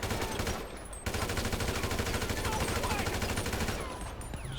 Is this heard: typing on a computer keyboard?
no